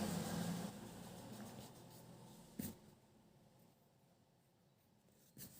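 Pen strokes of Hindi shorthand being written by hand on paper, a soft scratchy rubbing that fades after the first few seconds, with a couple of brief louder scrapes later.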